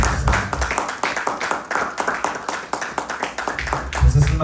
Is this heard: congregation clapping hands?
yes